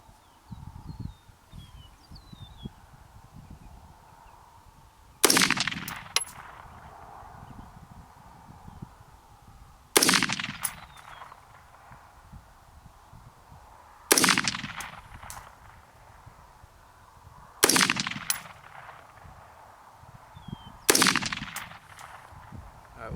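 Five slow, evenly spaced shots from an AR15 rifle firing Federal XM193 ammunition outdoors, each a sharp loud crack with a short echoing tail, separated by roughly four seconds of quiet ambience and faint rustling.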